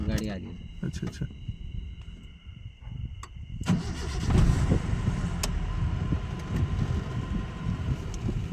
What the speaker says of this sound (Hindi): ये क्या आवाज हो रहा है? ये तो गाड़ी आ गई।